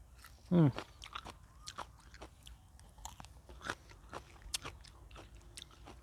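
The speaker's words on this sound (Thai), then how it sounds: "กัดไปฉ่ำน้ำออกหวานก่อน" Someone bites into a juicy pomelo with one sharp, wet crunch, followed by a run of softer chewing and small crisp snaps close to the mic.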